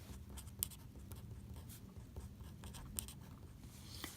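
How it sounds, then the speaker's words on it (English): Pencil or pen scratching across paper while trig ratios are handwritten at the top of a homework page, a steady soft scribble with a few sharper tick-like strokes and no talking. "I'm going to write this at the top"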